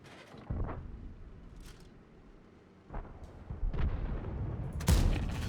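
Tank cannon fire in World of Tanks gameplay: a few sharp, booming shots spread across the stretch, with the last one the loudest, over a low rumbling game background.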